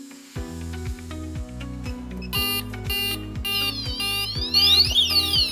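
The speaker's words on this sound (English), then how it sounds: "For the alarm button, after push the button, all the siren in the system will change to the alarm state." Sirens of an addressable fire alarm system switching into alarm state: repeated electronic tones with stepped, falling pulses, later joined by sweeping, whooping siren tones that grow louder.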